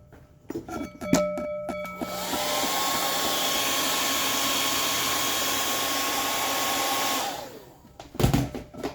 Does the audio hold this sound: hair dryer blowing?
yes